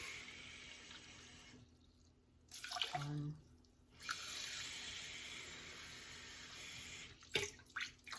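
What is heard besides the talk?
water poured into a pot for cooking quinoa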